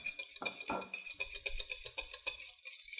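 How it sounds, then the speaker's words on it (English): A whisk taps and scrapes rhythmically against a salad bowl, blending Dijon mustard and olive oil. The strokes are quick and close but fairly quiet, and no one speaks. "Whisk it all together"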